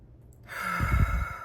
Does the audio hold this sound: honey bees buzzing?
no